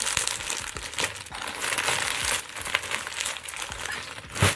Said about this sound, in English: Right here is a package that I'm going to open and show you what I got.